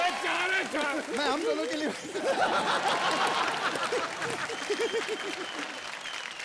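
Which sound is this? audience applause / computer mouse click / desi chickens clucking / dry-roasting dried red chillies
audience applause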